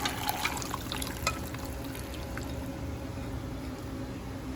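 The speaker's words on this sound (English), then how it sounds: "Now let's strain the liquid and keep the beef aside." Beef cooking liquid for a Goan beef and pork stew is strained, giving a steady, faint, continuous trickling pour with a low background hum and no voices.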